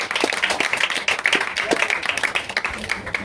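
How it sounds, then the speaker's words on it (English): Applause at an online talk show book launch for a lawyer, a scattered patter of clapping that stays fairly steady throughout with some talk mixed in. "give yourself a round of applause"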